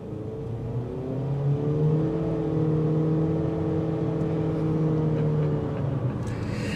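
A 2023 Honda HR-V EX-L pulls away from a green light, its engine droning steadily with rising, layered harmonics as it accelerates, loud and close from inside the cabin, with no talking.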